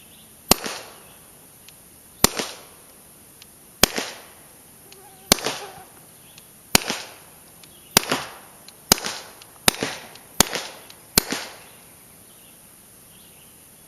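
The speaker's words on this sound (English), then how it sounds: "The first shot will be a little bit louder than the follow-up shots." Suppressed 1911 pistol firing .22 Long Rifle without suppressor fluid: about eleven sharp, dry cracks, spaced irregularly with quicker shots toward the end, each with a brief decaying tail, close and clear with no talking.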